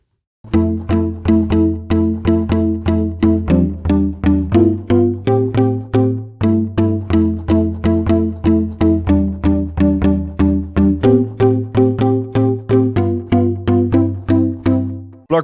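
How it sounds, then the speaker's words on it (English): Synthesizer pluck patch with an added mallet layer plays a steady, even run of bright, percussive notes in a repeating melodic pattern, loud and close throughout with no voices. "You can add a mallet sound with macro 1."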